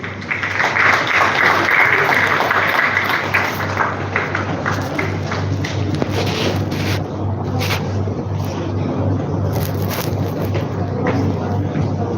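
Sustained applause from a school audience for students of St. Aurobindo Academy, a dense steady wash of clapping lasting the whole stretch at a fairly loud level, with some talk mixed in.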